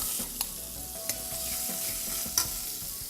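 Chopped onion, about one medium onion, stirs and sizzles in hot hing-flavoured oil for Sindhi sai bhaji, giving a steady frying hiss with a few sharp scraping clicks of the spoon.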